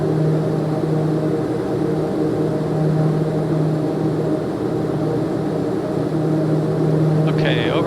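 A Piaggio P180 twin-turboprop takes off in Microsoft Flight Simulator 2024, its engines holding a steady droning hum with a low tonal whine, loud and unbroken.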